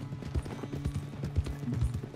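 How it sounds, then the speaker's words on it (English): Horse hooves clip-clop in a steady galloping rhythm in the video game Red Dead Redemption 2, soft and moderately close, over a quiet background hum. "Don't let Jack go too fast. He may get bucked off his horse"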